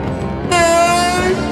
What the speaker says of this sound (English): It's the cry of the lonely malt crusher.